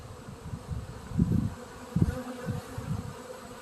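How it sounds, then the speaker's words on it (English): Bees buzzing close by at a farm while rabbit hutches are cleaned out, a low droning hum that swells and fades in uneven pulses as insects pass near, with no voices. "That's how close I am to the bees."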